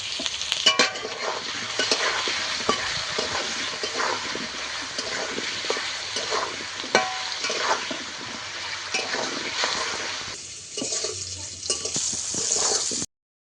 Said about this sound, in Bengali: একে একে আলুগুলো ভেজে নেব